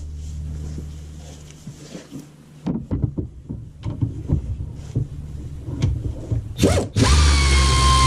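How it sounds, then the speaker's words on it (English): Ratchet clicking on an engine bolt in the bay of a 2013 Dodge Durango with a 5.7 Hemi, irregular close ratcheting strokes and metallic taps, ending in a louder steady hiss of machinery. "Try to sneak a ratchet in there."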